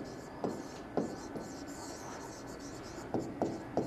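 Pen or marker strokes scratch out notes during a soil mechanics lecture, a series of short, spaced scrapes at an uneven rhythm, fairly faint against a quiet room.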